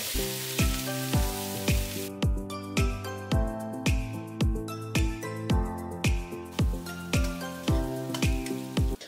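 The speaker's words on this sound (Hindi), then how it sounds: "ऑयल में डाला है तेज पत्ता दो सूखी लाल मिर्च दो लौंग डाले हैं और साथ ही डालेंगे जीरा प्याज डाल के अच्छे से ब्राउन होने तक इसको भून लेंगे" Onions fry in hot oil with bay leaf, dried red chilies, cloves and cumin, a steady sizzle under a repeated ringing metallic beat that keeps time throughout, loud and close with no talking.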